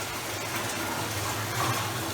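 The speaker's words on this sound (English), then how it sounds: "So right now what we're doing is filling in water into the system." Water gushes steadily into the tank of a mechatronics SCADA system, a continuous rushing, filling sound with a low mechanical hum beneath, moderately loud and unbroken.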